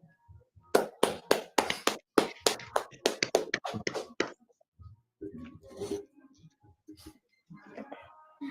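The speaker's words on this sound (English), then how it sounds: "All right, clap it up." Hands clap in a steady burst at a community class gathering, sharp and fairly close, for about three seconds before trailing off into scattered taps and a man's speech.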